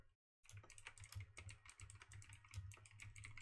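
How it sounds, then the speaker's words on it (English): Rapid clicking of computer keyboard keys in steady bursts, close and fairly quiet, after a brief silent gap at the start, with no talking. "Sorry, I'm typing as I'm doing this."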